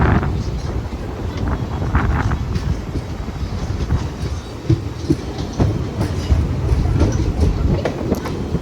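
An Indian express train on the Puri to Vijayawada route via Gudivada rolls slowly past a station it skips, giving a steady close rumble with faint wheel clatter and wind buffeting, no talk.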